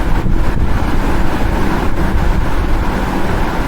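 Strong wind buffets the microphone on a hilltop at Marunthuvazh Anjaneyar hill temple, a steady loud roar and rumble with no break.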